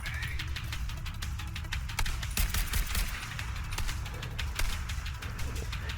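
Rapid gunfire in the shooter video game The Division 2, with dense volleys of sharp shots cracking continuously over a steady rumbling backdrop, loud and close, with no talking.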